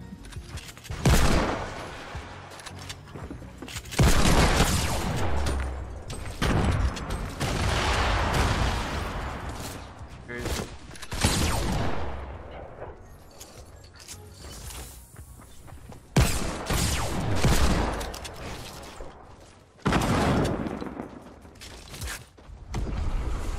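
Heavy sniper rifle fire in Fortnite, several loud sharp cracks with long ringing tails spaced seconds apart, mixed with bursts of other gunfire and mechanical clatter.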